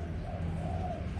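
A newly rescued pet bird coos in soft, pigeon-like tones, a low, continuous murmuring call heard close up with no talking over it.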